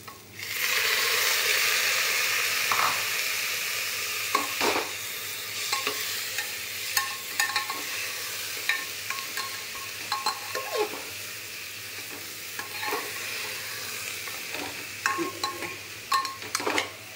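Washed rice tipped into a hot pan with oil, a steady sizzle under repeated scraping and stirring with a utensil, and occasional clinks against the pan close by.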